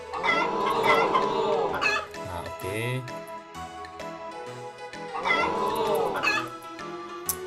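Repeated chicken clucking with layered squawks in two bursts during a cockfight in Harvest Moon: Back to Nature, separated by a quieter stretch of electronic, game-like tones.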